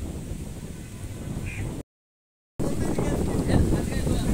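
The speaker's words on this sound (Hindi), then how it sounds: "हवा बहुत चल रही है आज" Strong wind gusts roar over a river, a steady blustery rumble buffeting the microphone, broken by a brief dropout before the wind resumes just as loud.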